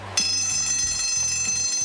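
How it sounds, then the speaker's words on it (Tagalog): An alarm in a house rings loud and continuous for the whole short stretch, a bright, steady electronic tone with a shifting low pattern beneath it. "Yung alarm po namin"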